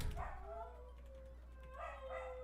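Pet dogs indoors at home whining and yipping, two drawn-out whimpering barks, fairly quiet and slightly distant over a low steady hum.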